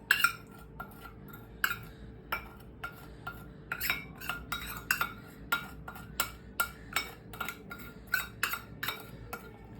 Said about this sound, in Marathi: आणि आता टाकल्यावरती हे सगळं चमच्याने मिक्स करून घेऊया.